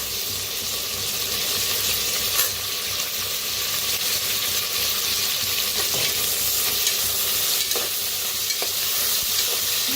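Sliced onion and potatoes frying in a pan, a loud, steady close sizzle with occasional scrapes and stirring knocks running throughout.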